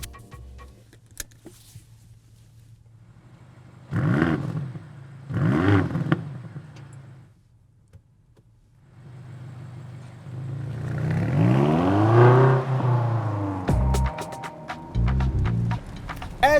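A BMW XM plug-in hybrid SUV is driven, with quiet ticking and whirring, a couple of brief engine surges, then a longer rising rev and acceleration and a rumbling finish, with no talking.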